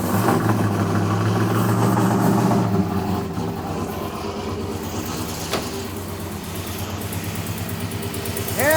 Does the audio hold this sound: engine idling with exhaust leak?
yes